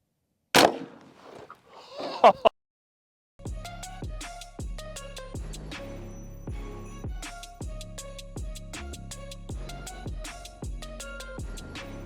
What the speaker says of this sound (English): Here we go, dead center, firing.